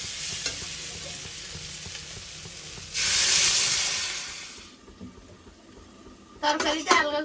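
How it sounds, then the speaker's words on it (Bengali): Water is poured into a pan of hot frying Malabar spinach, potato and taro, setting off a sudden loud hissing surge that fades over about two seconds, set amid softer sizzling, with a voice speaking briefly near the end. "ভাজা হয়েছে, এবার জল দিয়ে দেবো"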